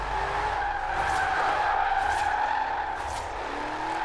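A car drifts in the racing video game Forza Horizon 4, its tires squealing in a long, sustained screech over a steady engine drone, with no talking.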